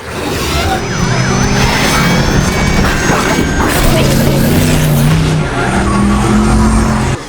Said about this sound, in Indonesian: Ia pun langsung pergi dengan mobil itu.